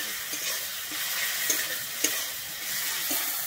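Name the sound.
stirring tomato into frying beetroot and carrot curry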